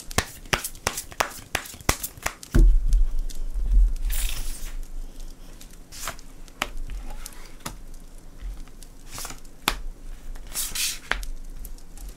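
Tarot cards are handled close up: a quick run of crisp riffling taps, a heavy shuffling thump, then scattered soft snaps and slides as cards are drawn, with no talk.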